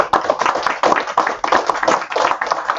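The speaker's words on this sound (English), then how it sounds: "let's give us a big round of applause" A small group gives a round of applause at a meeting, producing brisk, close, dense hand clapping with uneven rhythm that stays loud throughout.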